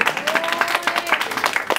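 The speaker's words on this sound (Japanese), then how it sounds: "大きな拍手お願いします" Audience applause at a live freestyle opening event, a dense crackle of many hands clapping with a faint voice rising briefly through it.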